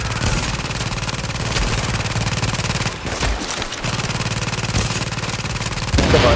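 Sustained automatic turret fire in The Division, a rapid, steady stream of loud close shots that continues nearly without pause, briefly thinning midway before resuming at full intensity.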